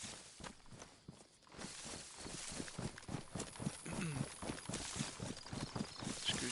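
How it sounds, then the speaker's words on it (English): Footsteps from the video game DayZ, a steady run of close, evenly paced thuds on hard ground that carry on throughout at moderate loudness with no talk. "Definitely heard footsteps next to me."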